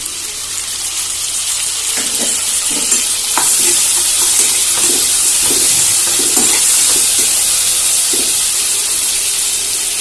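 Tomato fries with onions in a pan, a loud, steady sizzling hiss with soft stirring scrapes and bubbling pops scattered throughout, no one speaking.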